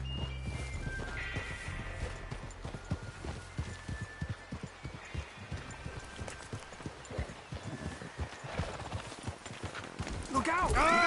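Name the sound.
horse hooves clip-clopping in video game Red Dead Redemption II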